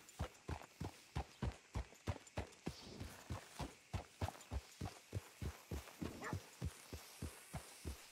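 A horse trots through town in Red Dead Redemption, its hooves clip-clopping in an even, regular beat of about two or three strikes per second, fairly quiet and heard alone.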